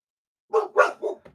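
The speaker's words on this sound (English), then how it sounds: "It's a ferocious bark." Guard dogs bark ferociously up close: three loud, harsh barks in quick succession, then a shorter, softer bark trailing off.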